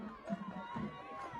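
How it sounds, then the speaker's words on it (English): Fans cheering at a high school football game between the Willcox Cowboys and Benson Bobcats: a faint, distant crowd roar with a commentator talking over it. "A lot of Cowboy fans cheering on right now."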